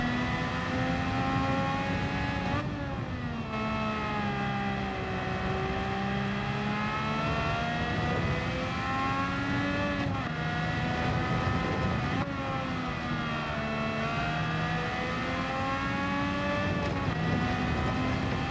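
A race car engine in Gran Turismo 7 drones steadily and loud for the whole stretch, its pitch climbing and then dropping sharply at each gear change, several shifts in a row.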